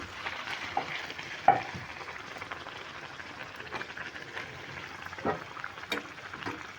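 Chana dal puri frying in hot oil, giving a continuous close crackling sizzle with a few sharper spatters and light utensil taps, and no talking.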